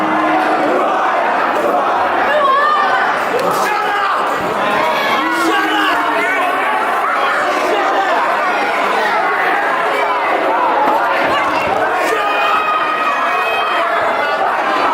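A wrestling crowd at a show in Colac, Victoria, Australia, keeps up a dense, steady roar of chatter, shouts and cheers in a packed hall, loud and continuous with scattered individual yells standing out.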